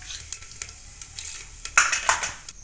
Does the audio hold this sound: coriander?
yes